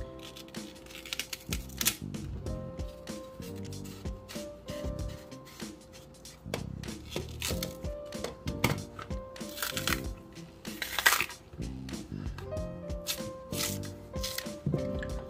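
A knife slices through plantain for chips, producing a long series of crisp, close chopping taps against a board in irregular clusters, with rustling handling between cuts.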